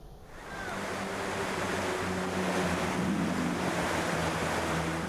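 Floodwater from a flash flood rushes steadily through a flooded area along the Trans Sulawesi road in Polewali Mandar, West Sulawesi, a loud, continuous broadband roar with a low rumble and no speech.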